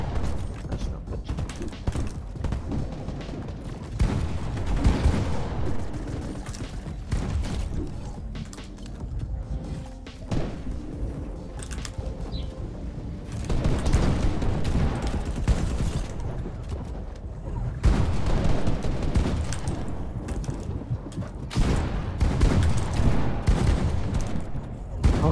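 Video game gunfire in a competitive sniper match, dense bursts of shots and mechanical clatter rolling on almost continuously, with a player's voice now and then.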